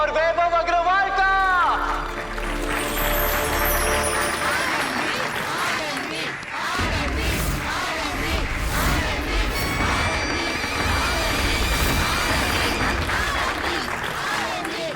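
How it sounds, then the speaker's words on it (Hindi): Loud, sustained audience applause and cheering welcomes two contestants onto a Hindi television show stage. It bursts in after a short musical opening and fills the studio as a dense, continuous wash. "तो जोरदार तालियों से स्वागत करिए आनंदी सिंह और वैभव अग्रवाल का"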